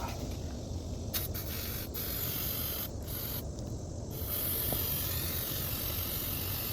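Brake cleaner hisses in a steady aerosol spray onto the rubber seal and carburetor of a Cub Cadet string trimmer, with several short breaks in the jet.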